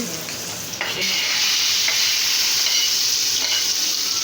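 Fish frying in a pan with garlic and onions, a steady loud sizzle throughout with a few stirring scrapes and clatters near the start, no voices.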